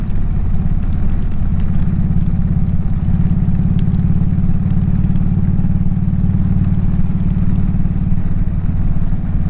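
A motorcycle rides through the rain, with a steady, loud, low engine drone and constant road and wind noise throughout.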